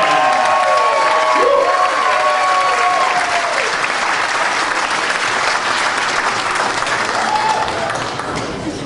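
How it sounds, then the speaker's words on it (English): A crowd applauds and cheers at a local celebrity dance competition in Auburn in 2010, with dense, loud clapping and a few whistles and shouts that hold steady and ease off slightly toward the end. "Big round of applause for Justin."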